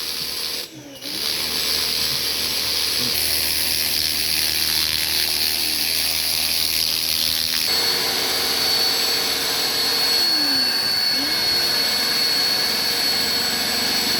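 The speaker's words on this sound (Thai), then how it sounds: "ในรถก็ดูดฝุ่นให้นะครับ" A loud, steady whining drone from a vacuum cleaner runs throughout as dust is vacuumed from the interior of a Honda City car, with brief shifts in pitch and no clear speech.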